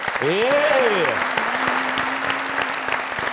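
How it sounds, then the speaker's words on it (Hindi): Studio audience applause on a comedy talk show, a dense steady clatter of clapping lasting throughout, with a host's voice and a sung or drawn-out vocal tone rising over it at the start. "मैं आपसे कह रहा हूँ अधिका जी के लिए तालियां बजाइए।"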